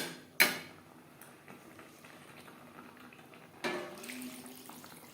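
Water goes into a pan of fish head curry with potatoes and spices, heard as two short splashy bursts separated by a quiet, faintly simmering stretch.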